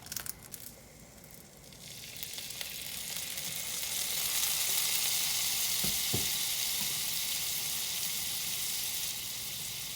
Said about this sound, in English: we're going to add a teaspoon of minced garlic